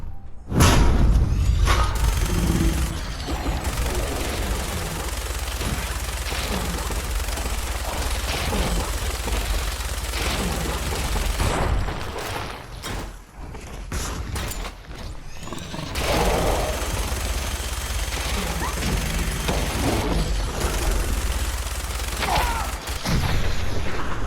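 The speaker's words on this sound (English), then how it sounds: "Fucking minigun!" A minigun fires in the video game Fallout 4, with dense rapid automatic gunfire and mechanical spinning over a loud, continuous game soundscape, with a brief lull midway before firing resumes.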